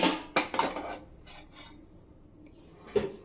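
A cooking pan scraped and shifted off a stovetop, with a few sharp metallic rasps and knocks close by, then quiet before one last clatter.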